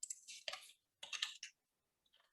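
Quiet clicking of computer keyboard keys as a short SQL command is typed, two brief bursts of tapping followed by a faint few taps.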